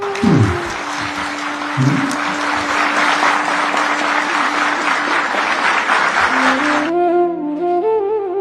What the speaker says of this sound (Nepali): गृहमन्त्रीले उठेर बजाए ताली